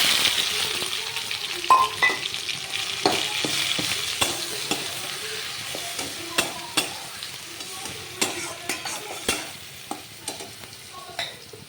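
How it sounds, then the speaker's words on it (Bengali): Banana stem paste fries in hot spices in a pan, a steady sizzle running throughout while a spoon stirs and scrapes in regular, sharp strokes close by, with no talking. "মশলাটা যখন ভাজা হয়ে গেল তখন এই থোড় বাটাটা দিয়ে দিলাম।"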